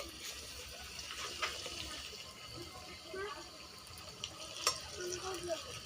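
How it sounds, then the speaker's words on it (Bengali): Spicy potato kachori dropped into hot oil, giving a steady broad sizzle with a few brief pops and spatters, while a voice talks over the frying. "এই যে কচুরি আমরা ছেড়ে দিচ্ছি, তেল গরম হয়ে গেছে।"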